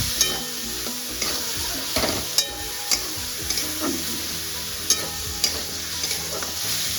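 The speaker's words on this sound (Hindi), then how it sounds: "पहले प्याज फ्राई कर लेते हैं" Onions for chicken curry fry in a pan with a steady, continuous sizzle, joined by occasional clinks and scrapes of a spoon stirring, fairly close and with no voices.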